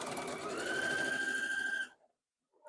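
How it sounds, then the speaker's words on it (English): A sewing machine stitches steadily across the bottom of a quilt project, a continuous close whirring hum that runs for nearly two seconds, then stops briefly before starting again. "we're going to sew right across the bottom right here"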